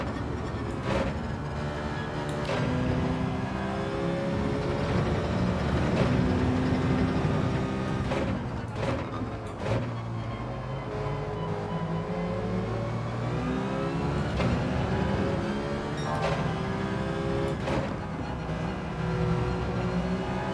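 Citroen race car engine in Gran Turismo 7, a continuous buzzing drone that rises and falls through gear changes and revs across a steady race, with no pauses.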